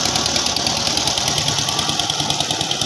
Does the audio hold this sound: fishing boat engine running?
yes